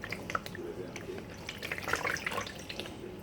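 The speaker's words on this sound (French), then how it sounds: "Mouiller le visage." Water runs and splashes at a sink as someone wets their face, a close, irregular patter of small splashes over a steady trickle.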